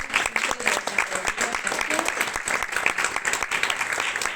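A crowd at a music event in Utebo, Zaragoza, claps steadily and enthusiastically in a dense, continuous round of applause that holds at an even level throughout.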